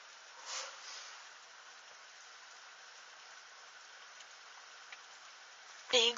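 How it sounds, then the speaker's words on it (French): Heavy rain in Tour-en-Sologne, France, in April, falling as a constant, even hiss with a few louder splashes, then a sudden burst of closer noise at the very end. "Les gouttes sont de plus en plus grosses et de plus en plus fortes, la pluie là."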